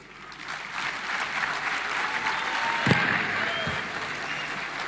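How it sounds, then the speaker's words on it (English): An audience at a public event applauds a speaker in a continuous, dense wash of clapping that swells gradually and stays steady, with one brief sharp knock midway. "Another round for applause to Irungu Kangata."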